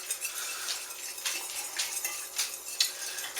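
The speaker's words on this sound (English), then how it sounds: "you're going to drizzle the olive oil in while whisking" A whisk beats egg yolk while olive oil is drizzled in for steak tartare, giving quick, rhythmic metallic clinks and scrapes against a bowl, close and fairly steady, with no talking.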